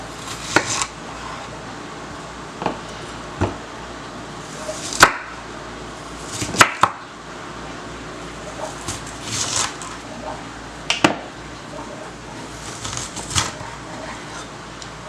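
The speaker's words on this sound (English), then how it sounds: "So now I have a large onion here that I'm going to cut up" A kitchen knife chops through a large onion on a cutting board, sharp knocks coming in irregular bursts close by with quiet pauses between strokes.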